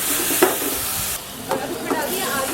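Tomato gravy with red chilli powder sizzling and frying steadily in a hot pan at a thali restaurant near Delhi Sarai Rohilla Railway Station, with a few stirring scrapes over the crackle.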